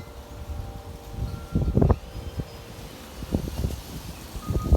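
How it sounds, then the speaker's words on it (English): Wind gusting through a desert garden in winter, rustling leaves in bursts of dry crackle over a low steady blow, with a faint distant tonal hum, no voices. "Lots of wind, lots of leaves."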